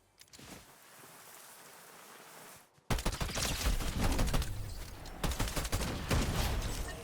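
Rapid pistol fire from a mythic ranger pistol in a Fortnite Zero Build match, a dense burst of loud, sharp shots after a brief quiet lead-in, with no talking.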